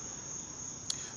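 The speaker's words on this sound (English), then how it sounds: "And I'm finally hearing the crickets." Steady, continuous chirping of crickets outdoors, a high sustained trill running throughout at moderate level, with one brief louder click near the end.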